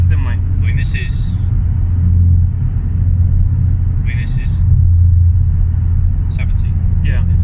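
A Ford Focus MK3 RS with a Simpson race exhaust cruises in sixth gear, giving a steady, loud low drone with a rumbling exhaust note throughout, while people talk inside the car.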